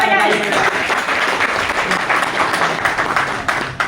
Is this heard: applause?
yes